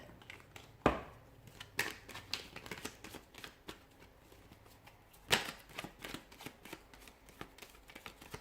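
Tarot cards are shuffled close up, giving quiet riffling and flicking with two sharper slaps where the deck is tapped together, and no one speaks.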